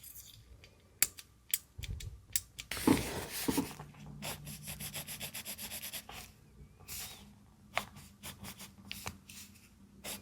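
A pencil being sharpened to a point by hand, with close scraping and grinding rubs, a longer dense burst in the middle, surrounded by small clicks and taps at a quiet level.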